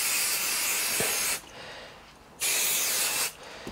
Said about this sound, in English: we just spray it on the material